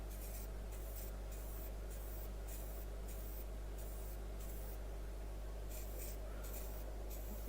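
Lacquer is sprayed onto a woodturned piece in a series of short, rhythmic hissing spray bursts, about a dozen in quick succession, fairly quiet over a strong steady electrical hum.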